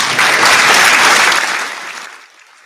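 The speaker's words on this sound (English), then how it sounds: "I'm sorry, I was late with the hand claps." Applause from a studio audience on a radio show, loud, dense clapping that holds steady, then tapers off and fades out near the end.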